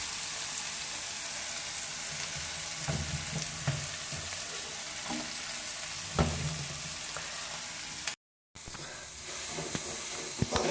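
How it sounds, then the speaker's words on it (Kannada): Capsicum and carrot frying in oil in a pan for capsicum chitranna, a steady close sizzle with occasional stirring scrapes and a brief dropout near the end. "ಕ್ಯಾಪ್ಸಿಕಮ್ ಮತ್ತು ಕ್ಯಾರೆಟು ಎಣ್ಣೆಲೆ ಫ್ರೈ ಆಗಬೇಕು."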